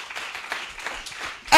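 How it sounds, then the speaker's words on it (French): A church congregation at a prayer and fasting service claps steadily, a loose patter of applause that swells sharply at the end. "Clap for love."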